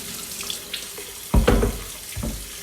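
Water from a tap splashing into a sink while tumbled coins and jewellery are rinsed, a soft steady trickle with two louder gushing bursts, close by and without talk.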